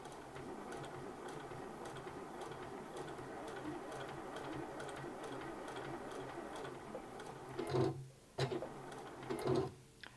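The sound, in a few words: sewing machine stitching a hexagon mini quilt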